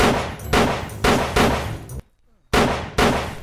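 Rapid bursts of gunfire in the VR game Blade and Sorcery, loud and close, coming in repeated volleys with a brief silent gap between them.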